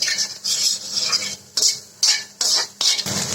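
A spatula scrapes and clatters against a pan as raisins and vegetables are stir-fried for lemon-leaf fried rice, in short rhythmic bursts of metallic scraping with little sizzle.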